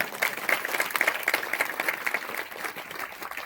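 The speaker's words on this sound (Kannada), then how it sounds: "ಜೋರಾಗಿ ಚಪ್ಪಾಳೆ ತಟ್ರಿ" An audience at a religious discourse gathering applauds a donor with steady, dense clapping throughout, loud at first and then gradually softening.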